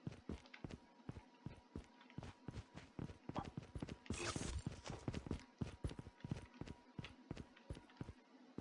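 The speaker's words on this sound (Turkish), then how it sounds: "Adım sesi, ayak sesi geliyor." Footsteps in a Call of Duty match, a steady run of evenly spaced heavy thuds striding close by, with a brief noisy swell partway through and faint voice underneath.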